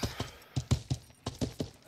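Horse hooves clip-clop in a quick, steady gait in the game Life is Feudal MMO, crisp and fairly close, with no other sounds around them.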